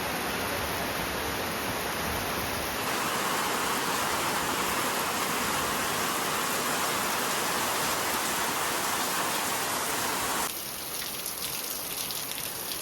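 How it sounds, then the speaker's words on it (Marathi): Steady, heavy monsoon rain roars without a break in a village, a dense wash of noise throughout, with a high thin whine that fades out and returns near the end. "बघा किती जोरात पाऊस येतो"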